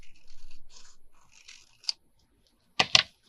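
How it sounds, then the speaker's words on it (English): Scissors snip through envelope paper while trimming a handmade envelope booklet: a faint cut, then a short burst of two or three crisp, close snips after a pause. "So we're just going to cut this off."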